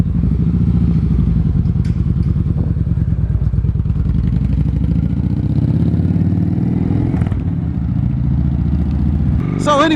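Kawasaki Vulcan Vaquero motorcycle engine running loud and close throughout, a steady low rumble with pulsing firing beats and brief clatter near the end.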